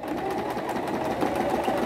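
A sewing machine stitching along the hem of a mitred-corner napkin, its motor whirring in a steady, continuous rattle close by and alone for the whole stretch.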